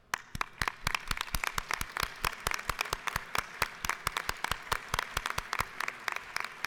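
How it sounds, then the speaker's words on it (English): Scattered applause honors students in the Georgia House of Representatives chamber. Distinct individual claps from a modest group keep a fairly even, quick rhythm, fairly faint and carrying on for several seconds. "please give them a heartfelt applause for their outstanding accomplishments"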